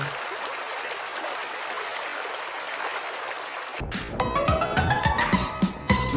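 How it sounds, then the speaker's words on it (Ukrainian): A stream rushes with a steady broad hiss for about four seconds, then gives way to music. "Річка"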